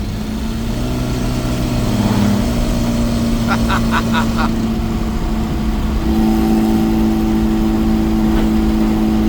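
Engine of a cheap turbocharged Honda Civic on its first drive, a steady mid-range drone held throughout with a few brief higher tonal blips partway through and a slight shift in pitch later, loud and continuous from inside the car.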